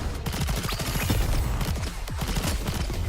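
Firecrackers in the video game Goddess of Victory: Nikke pop in a dense, continuous crackling barrage that runs for a few seconds, loud and close.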